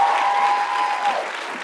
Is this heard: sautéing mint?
no